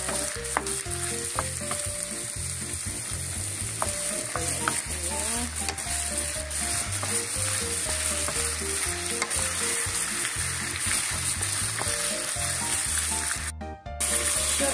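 Chicken and vegetables frying in a pan while being stirred, a constant loud sizzle with repeated clinks and scrapes of the utensil against the pan, close up and without talk.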